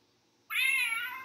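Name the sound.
toy box that meows when opened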